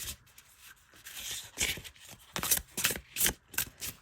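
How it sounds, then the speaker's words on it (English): Deck of oracle cards on smooth cardstock being shuffled by hand, a series of soft, papery riffles and slides in irregular bursts, close and fairly quiet with no talking. "Let's give them a shuffle"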